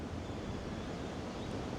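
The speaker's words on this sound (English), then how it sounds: "it's such a windy day" Steady, broad rushing wind on a cold day in South Australia buffets the microphone, a dense continuous roar with no pauses or voices.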